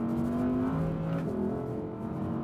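An Audi R8 V10 Performance facelift sports car on the Ascari racetrack gives a loud, steady engine drone whose pitch rises and falls as it drives.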